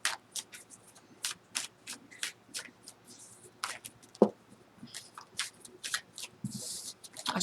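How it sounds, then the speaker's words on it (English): A deck of tarot cards shuffled on a table, a quick run of crisp close riffles and slaps repeating in short bursts with a brief thump midway, no voices. "Let me shuffle that up just a little bit."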